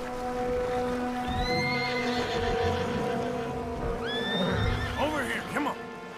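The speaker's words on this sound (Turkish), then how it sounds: "atlardan birine binmek için E tuşuna bas" A horse in the western game Red Dead Redemption 2 gives two loud, close whinnies, with clip-clopping hooves and a soft patter of rain under a sustained tonal backdrop.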